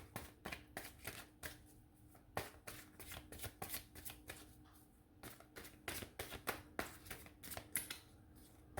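Tarot cards riffled and shuffled by hand, a steady run of quick papery flutters and snaps, close and fairly quiet, with no talking.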